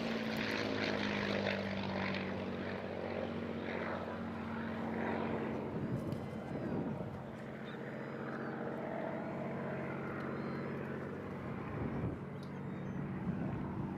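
A North American Aviation WWII propeller fighter built at Inglewood, California in mid-1944 flies at the Eastbourne International Airshow, its steady engine drone loud and continuous throughout with a faint crowd wash beneath.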